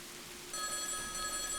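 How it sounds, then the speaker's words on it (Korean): A telephone bell starts ringing in an empty, abandoned house, a thin metallic ringing that begins abruptly and continues steadily, fairly faint over a soft hiss. "2층에서 전화벨 소리가 울려왔습니다"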